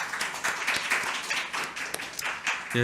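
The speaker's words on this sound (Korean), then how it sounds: "우리 같이 박수로 함께 했으면 좋겠습니다" A church congregation claps together during a sermon, a short burst of warm, fairly soft group applause with a few sharper individual claps.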